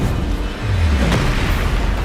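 Bombarda blasting spell cast in Hogwarts Legacy, a single deep boom that swells after a short buildup and rumbles low and loud over dense game noise.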